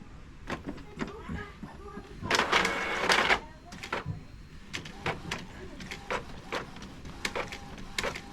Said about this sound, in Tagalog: Ito, head clean lang siguro. Head clean lang.